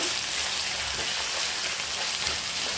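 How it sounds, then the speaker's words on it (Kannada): Chili peppers frying in a pan for chicken paneer masala, a steady close hiss and crackle of hot oil with no pauses. "ಇದನ್ನ ಸ್ವಲ್ಪ ಫ್ರೈ ಮಾಡ್ಕೊಳ್ತಾ ಇದ್ದೀನಿ"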